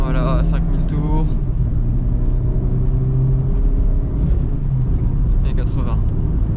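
A Renault Clio 4 engine accelerates hard at full throttle inside the car, a steady close drone rising in pitch with a gear change, with someone talking over it throughout.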